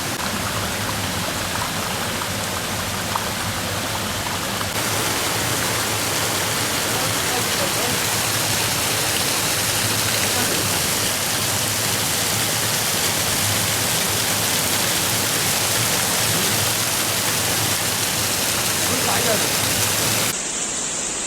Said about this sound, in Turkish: Böyle geniş kadrajdan size şelalenin akışını göstermek istedim.